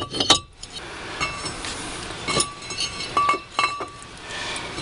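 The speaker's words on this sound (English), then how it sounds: "Now the rotor should slide right on." Brake rotor sliding onto the front hub of an Oldsmobile Intrigue during a pad and rotor job, giving a handful of light metallic clinks and taps scattered through a quiet garage, close and alone with no talk.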